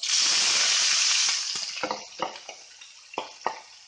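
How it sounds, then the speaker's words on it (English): Sliced onions hit hot oil with curry leaves and burst into a loud, hissing sizzle that fades over a couple of seconds into quieter spitting crackles and a few sharp stirring knocks. "Once the oil and the curry leaf start giving nice aroma, we'll be adding the onions"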